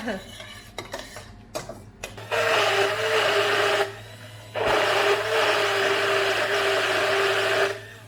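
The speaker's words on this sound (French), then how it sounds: "On va mixer." An electric blender purees raspberry ketchup in two loud, sustained whirring bursts separated by a brief pause, after some earlier clattering of kitchen utensils.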